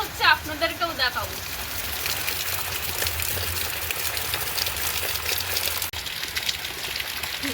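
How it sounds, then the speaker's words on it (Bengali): Rain falls steadily on a lotus pond in a rural Bengal village, a continuous close hiss of drops hitting water that runs the whole time, with a brief tonal sound at the very start. "যে পদ্মপুকুরটা আপনাদেরকে বারবার দেখায় তো সেখানে বৃষ্টি পড়ে কি অবস্থা"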